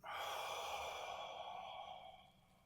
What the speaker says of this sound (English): So I'm breathing in through the nose, breathing out.